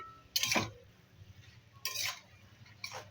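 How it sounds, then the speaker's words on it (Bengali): A spoon stirs cabbage and prawn curry in a pan, giving three short scraping, clinking strokes spaced about a second apart over a low background hum. "তো দেখো ভালো করে মিক্স করে নিলাম।"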